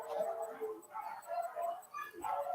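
A young puppy whines and yips in excited bursts, high-pitched cries rising and falling in short repeated phrases, close and fairly quiet.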